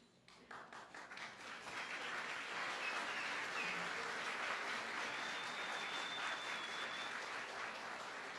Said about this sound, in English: give your parents or family a big round of applause because they were with you